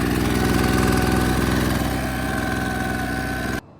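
A repaired leaf blower's small engine runs steadily at a loud, rough idle with a dense rapid firing pulse, then cuts off abruptly near the end.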